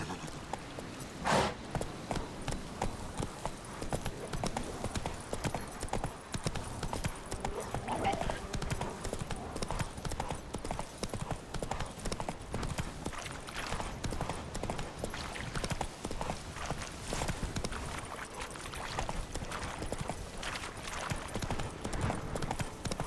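Roach, Geralt's horse in The Witcher 3, gallops with rapid, steady clip-clop hoofbeats throughout, moderately close, while a voice talks over the running hooves.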